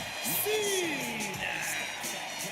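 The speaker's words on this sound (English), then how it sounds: "And listen to this crowd." Wrestling arena crowd cheering and roaring after a WWE championship match finish, a steady broad wash of noise with a rising shout or whoop riding over it, loud and continuous throughout.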